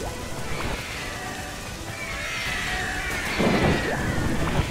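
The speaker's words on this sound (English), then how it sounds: "This rain makes it super annoying." Steady heavy rain hisses in an outdoor video game scene, with a low rumble of thunder swelling toward the end, loud and continuous.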